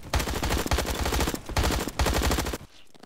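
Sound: gunfire in Roblox Bad Business video game

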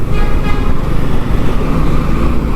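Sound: lorries and trucks passing on highway

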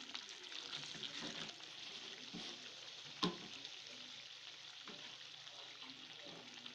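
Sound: chicken achar gosht frying in gravy

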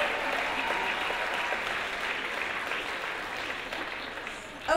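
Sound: audience applause for artists and models

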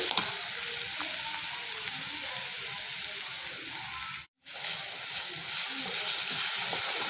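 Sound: stirring frying filling with pepper powder in a pan

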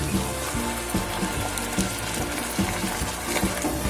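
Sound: onion gravy added to sautéing garlic

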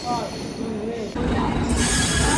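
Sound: train arriving, wheels squealing

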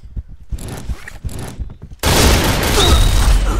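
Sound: TAR-21 rifle gunfire in Point Blank video game

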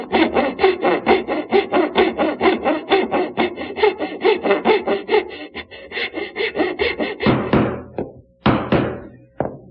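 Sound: hand-cutting dovetail tails in wood

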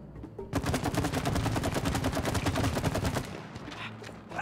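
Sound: gunfire from shooting in video game It Takes Two

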